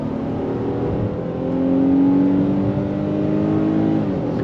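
A 2024 Nissan Pathfinder midsize SUV in sport mode accelerates hard on throttle, its engine note climbing in a steady rising drone that swells louder midway and holds strong to the end, with no talking over it.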